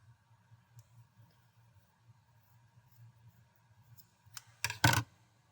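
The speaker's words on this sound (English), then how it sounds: "So I'm going to trim these ends fairly close." Scissors trim the cord ends of a handmade macrame bracelet in a quiet room: faint low handling sounds, then a few sharp, close snips near the end.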